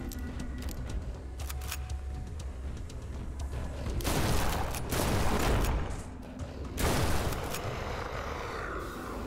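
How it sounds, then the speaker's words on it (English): Shotgun blasts in the horror game In Sound Mind, two or three heavy, booming shots a couple of seconds apart with short decays, preceded by quieter clicks and game ambience. "But I'm just gonna use a shotgun."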